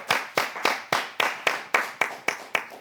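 An audience applauds the performer Issimi after her piece, about nine evenly spaced sharp claps in a steady rhythm, fairly close and clear with no talk over them.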